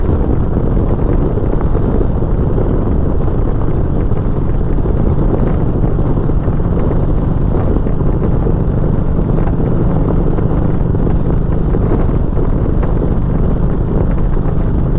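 Loud, constant wind roars and buffets against the microphone on a motorcycle with a Memphis Shades Road Warrior fairing, a dense low rumble with no pauses and no talking.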